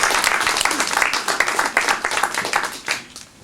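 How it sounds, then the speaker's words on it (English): A school staff audience at a start-of-year gathering applauds with dense, steady clapping throughout, close and fairly loud, thinning out and fading toward the end. "please give yourselves a round of applause"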